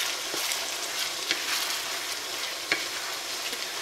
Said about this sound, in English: Almost done cooking the meat.